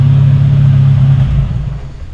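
A car engine idling loudly just after a fuel pressure regulator was fitted, a steady low drone that then fades and drops away as the engine is switched off.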